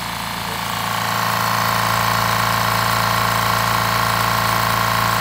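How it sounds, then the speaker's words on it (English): A small, super quiet portable generator runs steadily nearby, giving a constant even hum with a faint rising start and no voices over it. "This is our super quiet generator right there,"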